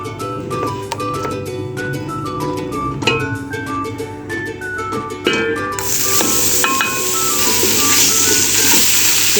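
Ghee heating in a cooking pot for beef nihari, with a steady sizzling hiss rising in the second half over continuous background music.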